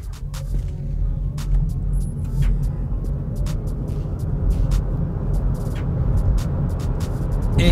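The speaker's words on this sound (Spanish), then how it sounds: "Ahora les voy a mostrar su aceleración, verifico que esté en modo Sport," An MG4 Cross electric car accelerating hard in Sport mode gives a steady, continuous road rumble and tyre noise from inside the cabin, with no engine note and no voices.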